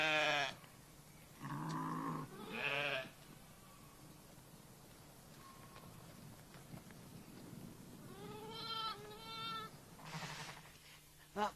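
Lambs bleat on a sheep farm, several loud, wavering calls near the start and again around the end, with quieter rain-like hiss and faint background sounds between them.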